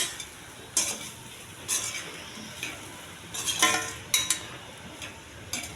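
Millet rice stirred with masala in a pan, a spoon scraping through it in a few separate bursts over a faint background hiss.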